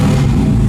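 Turbocharged SR20DET engine in a Nissan Silvia revs hard on a dyno through a dented open exhaust, a loud, continuous low engine roar that holds steady through the short stretch with no talk.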